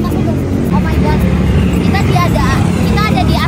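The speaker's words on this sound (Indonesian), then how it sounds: "di sini banyak lalu-lalang kendaraan" Busy street traffic in central Bandung near Asia Afrika, a dense, loud, continuous roar of many passing vehicles with engine drone throughout, while people talk over it.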